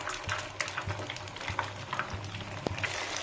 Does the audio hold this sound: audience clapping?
no